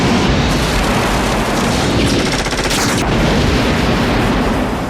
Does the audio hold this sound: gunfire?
yes